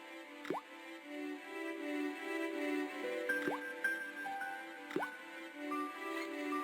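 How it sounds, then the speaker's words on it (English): A rusty faucet in the adventure game Broken Sword creaks and coughs, then spews rusty water, heard as several wet plopping, dripping gurgles at irregular intervals over faint tonal game music. "The faucet creaked, coughed, and spewed out a stream of rusty-colored water."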